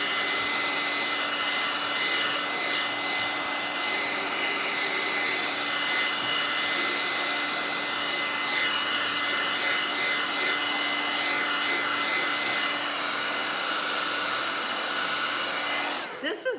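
A blow dryer runs continuously while drying chalk paint on a craft project, a loud, steady whirring roar close by that cuts off abruptly at the end.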